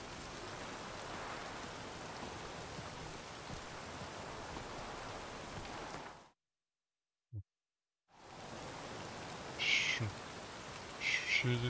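Steady rain hisses in The Witcher 3: Wild Hunt, breaking off into near-total silence for about two seconds before the downpour returns, with a few faint bird-like chirps over the wash near the end.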